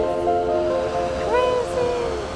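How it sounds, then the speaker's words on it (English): Steady rushing water from a waterfall along a hiking trail in Costa Rica, heard close and continuous, with voices talking over the roar. "Now this is the last waterfall."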